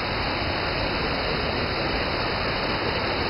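Waterfall at the Eubiose site in São Thomé das Letras, a loud, unbroken broadband roar of falling water, steady from start to finish with no voices.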